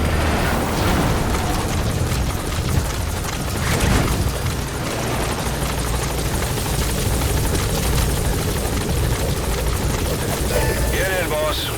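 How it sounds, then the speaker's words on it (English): Support helicopter arriving at the landing zone in Metal Gear Solid V: The Phantom Pain, a loud, steady rotor roar filling the whole scene, with radio-style voices talking over it. "Support helicopter has arrived."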